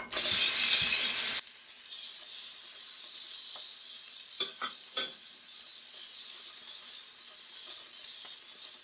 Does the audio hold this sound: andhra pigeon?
no